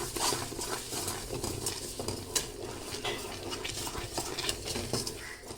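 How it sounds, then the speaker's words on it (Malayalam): A spoon stirs a sticky mixture of jaggery, salt, cumin and gooseberries in a pan, making continuous close scraping and soft clinking against the metal with a faint sizzle underneath and one sharper knock. "ഞാൻ ഇളക്കി കൊടുത്തേ."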